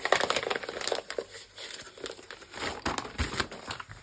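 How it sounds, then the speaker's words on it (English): Packaging for paint-by-number kits crinkles and rustles during unboxing, with loud irregular bursts of crumpling plastic and paper close to the microphone, broken by brief quieter gaps. "Let me just get through the rustling."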